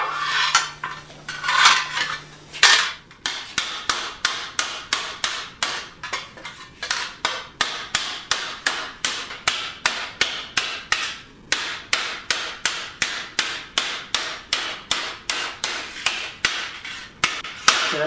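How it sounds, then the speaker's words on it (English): A high-crown hammer stretches sheet metal for a chopper fender, striking in a fast, steady run of dozens of sharp metallic blows, close and loud, with a short pause near the start. "I decided to use a hammer that reaches in a little bit better with a nice high crown on it for really good stretching"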